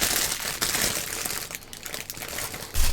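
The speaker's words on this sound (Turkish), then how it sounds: "Böyle bir set halinde şöyle bir poşetinden çıkartalım." Plastic packaging crinkles and rustles continuously as a professional cleaning kit for keyboards, earbuds, phones and TV screens is pulled from its bag, a close, busy crackle with a louder crunch near the end.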